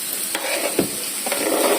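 Sisig sizzling and being stirred in a hot frying pan as chili is tossed in, a steady close crackle with a few scraping stirs and soft thumps.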